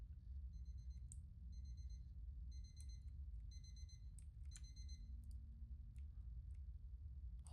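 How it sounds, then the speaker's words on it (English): A video game alarm clock rings in repeated bursts of bright electronic beeping, clear and steady over a low background rumble. "Alarm clock?"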